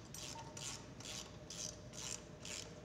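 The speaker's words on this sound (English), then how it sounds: "We're gonna take this nylon locking nut here, we're gonna thread that on." A nylon locking nut is threaded onto a Mercury reverse gate, giving six evenly spaced raspy metallic ratcheting strokes, close and fairly faint, alone without talk.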